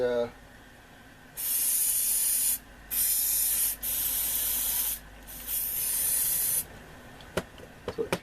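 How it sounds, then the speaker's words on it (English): Bursts of spray cleaner hiss around a radio potentiometer in an Ever Ready Sky Leader set, four long sprays with short gaps, followed by a few faint clicks of the pot. "if you spray around an area like that and just knock the pot back and forth"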